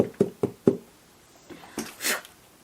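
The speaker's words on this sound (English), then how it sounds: "Knock all of this excess out." Three sharp knocks in quick succession as a resin skull mold is tapped to shake loose excess glitter, followed by softer scraping and rustling sounds, close by with no talking.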